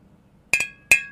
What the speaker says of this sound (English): I lift my glass up to you. I toast you